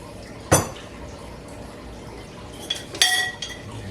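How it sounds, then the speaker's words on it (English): A spatula stirs sweet and sour sauce of ketchup in a pan, two distinct metallic clinks and scrapes against the pan over a quiet bubbling background, close and with no talk. "Using a little spatula here. Mix that up."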